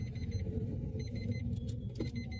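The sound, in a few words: manual car driving forward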